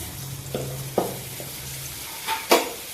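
Palm malpua batter frying in hot oil gives a steady sizzling hiss, with a few soft utensil clinks and stirring sounds scattered over it.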